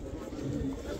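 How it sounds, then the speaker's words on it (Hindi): Soft low pigeon coos sound faintly over quiet background noise, a brief murmuring call. "ये कबूतर है ना"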